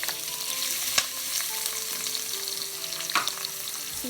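Shrimp sizzling in a pan with garlic for pancit guisado, a continuous moderate frying hiss with a couple of sharp clicks of a utensil against the pan.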